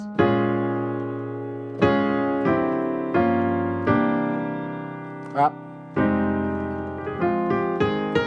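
An electric keyboard plays a series of sustained bluesy chords and notes with a short quick run midway, close and clear, no voices.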